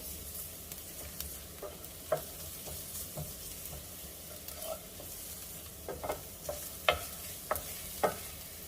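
Garlic sautéing in a pan over medium to medium-high heat after shallots, a quiet steady sizzle broken by a series of light scrapes and taps from stirring, close but faint.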